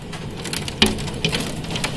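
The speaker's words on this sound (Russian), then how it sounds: "Град. Крупный, очень крупный град." Large hailstones fall hard during a thunderstorm, a dense continuous patter with several sharper close impacts standing out over the steady roar.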